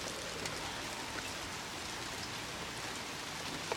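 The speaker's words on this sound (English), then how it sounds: "but look what it all came to. Rain." Heavy rain falls steadily, a dense, even hiss of countless drops on surfaces with occasional slightly louder nearby taps, moderately quiet and unbroken from start to finish.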